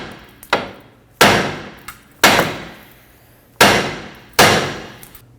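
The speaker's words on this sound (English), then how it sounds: "I'm going to strike the knuckle with a hammer until the tie rod drops down" Hammer blows ring out against the steering knuckle of a 2014-2023 Ford Transit Connect while an outer tie rod is being freed, four loud sharp metallic strikes with a couple of lighter taps, spaced unevenly and heard alone.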